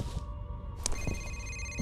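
A telephone rings in the F.E.A.R. video game, with electronic ring bursts over a humming, busy game soundscape. The ringing is moderately loud, and a sharp click breaks in partway through.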